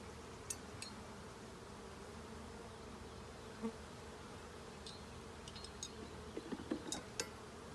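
Honey bees buzzing in an opened hive during an inspection, a faint steady hum with occasional louder passes as individual bees fly close.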